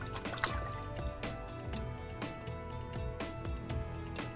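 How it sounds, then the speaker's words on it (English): A paintbrush is swished and rinsed in a water cup, making soft sloshing and dripping splashes in an uneven rhythm, close and fairly quiet. "Rinse your brush off really good."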